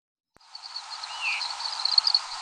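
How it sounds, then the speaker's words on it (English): A veery gives a single faint, downslurred flight call during nocturnal migration, heard from a distance above a steady night-time hiss of insects. "Yeah, that was a veery."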